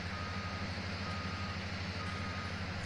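Repeated beeping alert from a vehicle in Farming Simulator 19, a steady pulsing tone over a constant low engine hum, moderately quiet and continuous throughout.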